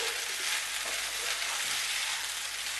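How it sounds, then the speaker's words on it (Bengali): Rice stirred and fried with spices in a pan over medium heat for vegetable dum pulao. A steady, close sizzle runs the whole time with no talk. "দু মিনিট মতো আমি চালটাকে মশলার সাথে এইভাবে একটু নাড়াচাড়া করে নেবো।"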